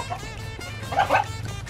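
A dog gives a short burst of yips and barks, moderately close, over a low steady rumble of background noise near chickens and a tractor.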